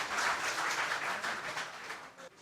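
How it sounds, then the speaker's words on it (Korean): Applause from a policy seminar audience welcoming a deputy director of the national fusion research institute to the podium, a moderate wash of clapping that holds steady and then tapers off toward the end. "큰 박수로 환영해 주시기 바랍니다"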